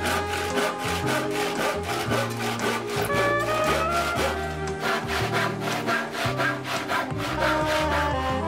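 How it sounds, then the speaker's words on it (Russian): Handsaw cutting a wooden board for a birdhouse wall, a steady, even back-and-forth rasp with regular strokes, close and loud throughout with no talking. "А затем не спеша и ровно отпиливаем."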